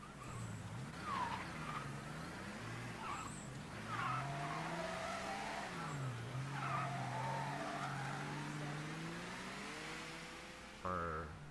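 A car in the Mafia 3 video game drives with a steady engine drone and repeated tire squeals as it skids through turns, followed by a sharp revving burst near the end.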